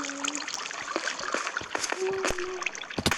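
Light water splashing and trickling in the Minecraft video game, with a few sharp drips and tonal blips, steady and close.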